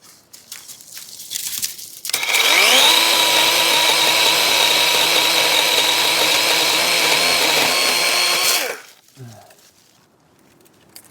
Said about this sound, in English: I just like the lightness of this little saw.